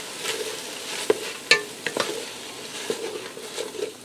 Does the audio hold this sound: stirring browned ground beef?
yes